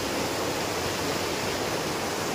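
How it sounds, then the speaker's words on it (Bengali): Upper Ghaghri Falls in a forest at Netarhat, Jharkhand: a steady, dense roar of falling water, loud and continuous with no voices. "জঙ্গলে ঘেরা, তার মধ্যেখানে ফলস রয়েছে। খুব একটা যে স্পিড নেই তা নয়, আছে, বেশ ভালোই।"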